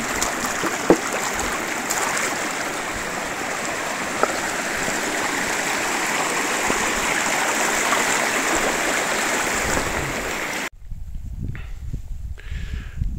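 A river flows steadily at a crossing point in the Femundsmarka wilderness, a broad, constant rush of water up close that cuts off abruptly near the end, leaving quieter trickling and faint handling noise.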